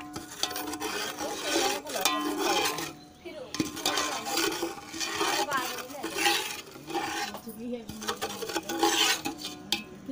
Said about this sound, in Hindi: अब अच्छे से इसको मिक्स कर देंगे हम